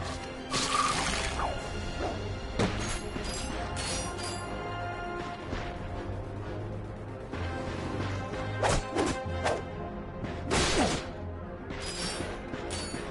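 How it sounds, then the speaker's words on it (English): Crates being smashed in a Ratchet & Clank game on PS4, a rapid series of sharp wooden cracks and crashes with swishing swings between, fairly quiet overall and with no talk. "Look at him smashing crates."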